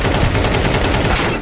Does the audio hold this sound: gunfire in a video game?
yes